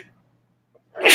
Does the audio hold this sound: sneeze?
yes